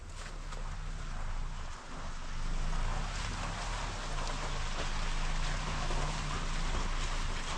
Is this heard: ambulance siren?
no